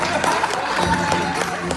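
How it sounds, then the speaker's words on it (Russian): An audience at a live improv show in a concert hall in Kyiv claps and cheers, a steady wash of crowd applause and shouts under a brief background voice. "Давайте встретим аплодисменты."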